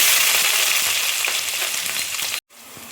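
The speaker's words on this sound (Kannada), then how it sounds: "ಸಾಸಿವೆ ಎಲ್ಲ ಸಿಡಿದ ನಂತರ ಉದ್ದಿನ ಬೇಳೆ ಹಾಕ್ಕೊಳ್ಬೇಕು ಉದ್ದಿನ ಬೇಳೆ ಹಾಕೊಳ್ತಿದ್ದೀನಿ ಈರುಳ್ಳಿ ಹಾಕೊಳ್ತಿದ್ದೀನಿ" Onions, mustard seeds and urad dal fry together in hot oil for a potato subji, a loud close hissing sizzle with faint crackles that cuts off abruptly near the end, then resumes quieter.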